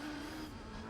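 A Mazda RX-7 race car with a rotary engine runs in Gran Turismo 4 during the Suzuka 1000 km endurance race, giving a faint, steady engine drone that shifts slightly in pitch as it goes by.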